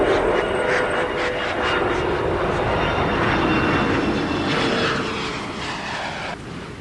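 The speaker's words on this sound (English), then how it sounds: "Endeavour will settle down on the runway 22, the concrete runway" Space Shuttle Endeavour coming in to land on concrete runway 22 at Edwards Air Force Base, California, a loud continuous rushing roar that eases slightly toward the end, with no speech.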